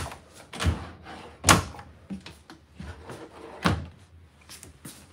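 A kitchen drawer in an RV at an indoor show opens and shuts several times, giving sharp close knocks and slides amid faint background noise.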